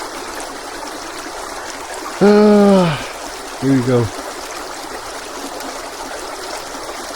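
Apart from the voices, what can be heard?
fresh clear stream of flowing water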